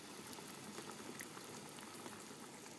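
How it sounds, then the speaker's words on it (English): Plantains boil in a pot of water, giving a steady, close bubbling and hissing roil that stays even throughout, with no talking. "I'm just going to boil them in water"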